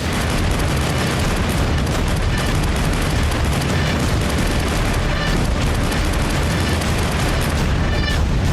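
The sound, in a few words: gunfire at training range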